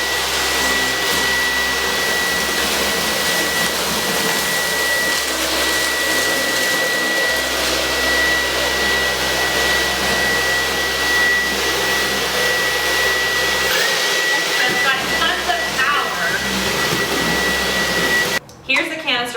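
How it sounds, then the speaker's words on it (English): Dyson V15 Detect cordless vacuum cleaner running with its second floor attachment, for carpets and hard floors, a loud steady motor whine that holds for most of the stretch and then cuts off abruptly near the end. "So still on the Dyson V15 Detect, but we're using the other floor attachment,"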